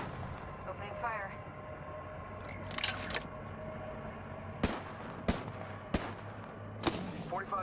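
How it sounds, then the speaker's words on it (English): Gunfire in the video game Apex Legends, with several sharp single shots cracking out in the second half over a steady low game backdrop, at moderate loudness. "Shots fired, and they're hitting me."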